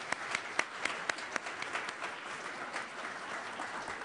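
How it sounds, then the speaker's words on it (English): Audience at a foreign policy briefing applauds an assistant secretary, steady clapping from a crowd with several crisp, close individual claps popping out early, then settling into an even patter. "Please give Assistant Secretary Carson a round of applause."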